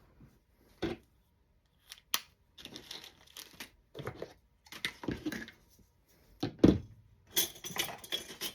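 Scissors snip through gathered lace on a handmade journal cover, giving a series of quiet, irregular crunching cuts separated by short pauses.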